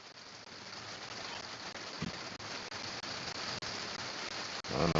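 Steady rain falls outside, a continuous soft hiss of drops with a few louder taps near the end, faint and alone with no talk.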